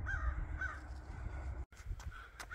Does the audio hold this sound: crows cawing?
yes